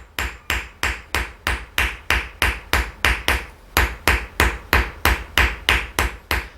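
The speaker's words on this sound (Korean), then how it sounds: "수백 번의 망치질 뒤에야 비로소 은덩어리는 기다랗고 둥근 모양의" A hammer strikes a silver lump being forged into a long round rod, ringing out in a steady fast rhythm of about three blows per second, loud and close, with no talking.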